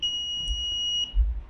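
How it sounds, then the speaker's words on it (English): Air quality monitor alarm triggered above its threshold, a loud continuous high-pitched electronic beep tone sounding steadily for about a second alongside low thumps of handling. "when it will be just above the threshold level you can hear the beep and those sound"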